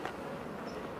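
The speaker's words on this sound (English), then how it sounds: "See how the bees jump on her, try and clean her off?" Honey bees buzz around a queen inside an open hive, a dense, steady hum at close range that fills the whole short moment without any talking.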